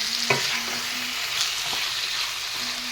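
Ground coriander and cumin powder fry with chicken in a hot pan, giving a soft, steady sizzle. A spatula gives a few sharp clacks as it stirs, and no voices are heard.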